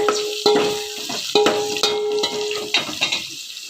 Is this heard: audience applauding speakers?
no